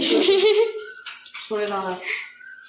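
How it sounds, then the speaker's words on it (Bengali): Water infused with cloves, cardamom and cinnamon is poured into a pot of bottle gourd and prawn curry, a short splashing pour mixed with nearby voices talking. "ওই জলগুলো সব দিয়ে দিচ্ছি যেগুলো ছিল লবঙ্গ এলাচ দারচিনি"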